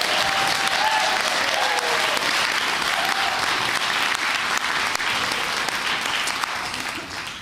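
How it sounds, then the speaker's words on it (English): A church congregation gives a sustained round of applause during a Sunday morning service, a dense, steady wash of many hands clapping that holds for several seconds before easing off slightly at the end, with faint voices mixed in. "Let's give them another round of applause."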